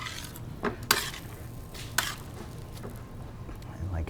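Creamy cacio e pepe pasta is tossed in a pan with soft, wet stirring and a few sharp clinks of metal against the pan, all fairly quiet and close, with faint voice in the background.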